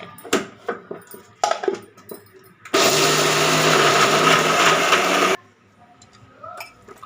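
A kitchen mixer grinder grinds soaked idli batter for carrot idli in one loud, steady whirring burst of about three seconds, framed by light clicks and handling knocks before and after.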